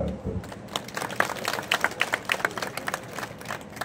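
Audience at a Marathi political rally clapping in a steady, scattered patter of many hands, fairly close, with a voice briefly heard at the start.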